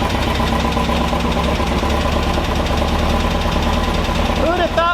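A Beck 550 Spyder replica engine idles steadily with an even, throbbing knock throughout, loud and close, with a brief voice near the end.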